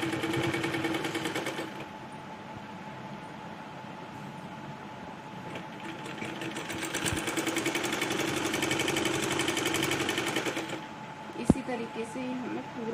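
Sewing machine stitching the two pieces of a full-flare Punjabi Patiala salwar together, a steady rapid mechanical whir running continuously at close range, with a sharp click near the end.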